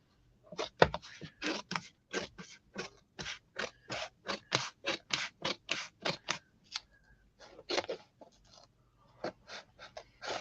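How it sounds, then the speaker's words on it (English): Scissors snip through a gel plate print in a rapid run of close, crisp cuts, with short pauses between bursts of strokes. "Now, pair of scissors. Cut the other piece off so it's not flippy flopping around."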